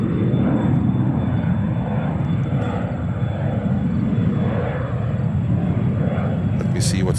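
An Air France Boeing 777-300 arrives at New York JFK from Paris, producing a steady low engine rumble with faint upper hiss, held at even loudness throughout while a voice talks over it.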